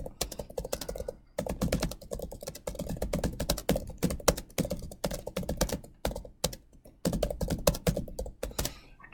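Keys clatter on a computer keyboard in a quick, steady run of close, crisp keystrokes with a few brief pauses, and no voices join in.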